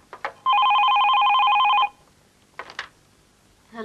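A telephone rings in a single loud, steady electronic burst lasting over a second, followed by quieter clatter and handling sounds in an indoor domestic setting.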